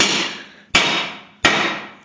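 Three loud, evenly spaced hammer blows ring out alone, each with a long metallic decay, as bushings are driven into the front beam of a YuMZ tractor.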